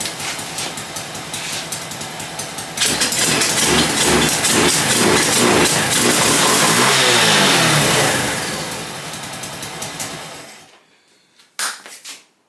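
A Honda C90 moped engine starts and runs. A mid-pitched buzz revs up loud and close, holds steady, then fades and cuts out, followed by a couple of brief knocks.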